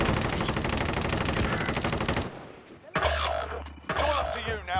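Rapid automatic gunfire from an AK74u in Call of Duty, a loud sustained burst followed by shorter volleys, with brief game voice lines between.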